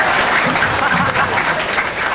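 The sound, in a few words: audience applause at a religious lecture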